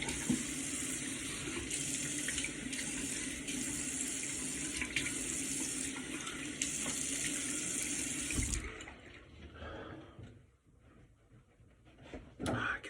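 Tap water runs steadily into a sink as a man rinses his face after a shave, a loud continuous splash that stops abruptly, leaving faint drips and small handling sounds.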